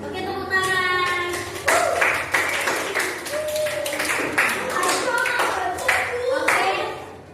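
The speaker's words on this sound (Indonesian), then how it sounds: "tepuk tangan" A group claps in a classroom workshop, a series of sharp, uneven bursts of hand claps mixed with children's and adults' voices talking and calling out.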